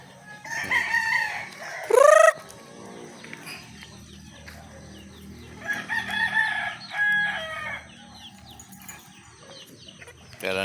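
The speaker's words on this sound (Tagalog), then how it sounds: "Ating mga manok nagkalat na." Free-ranging backyard chickens in morning sun, with a rooster crowing loudly and close by, followed by scattered clucks and short calls from the flock, with faint voices in between.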